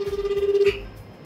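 A telephone ringback tone sounds during an outgoing call, with steady pulsed beeps repeating for about half a second before stopping. A faint voice follows.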